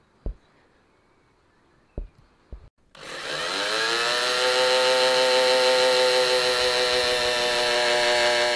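A few sharp knocks ring out before a power drill spins up and bores steadily through a Windsor chair arm clamped over a waste piece, its whine loud, close and sustained.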